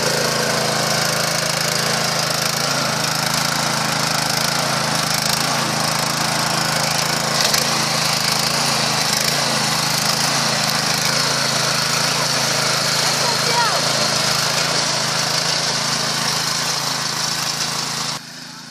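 A pull-start garden tiller engine runs steadily at a loud, close, constant drone, sustained for nearly twenty seconds before cutting off abruptly at the end.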